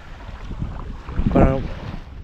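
Sea waves at a sandy beach on Naxos, a close wash of surf mixed with wind buffeting that swells into one louder rushing surge near the middle before settling back.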